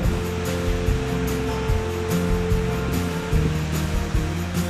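The Ossena torrent near Militello in Val di Catania rushes steadily in a continuous, loud broadband roar, with no voices over the flowing water.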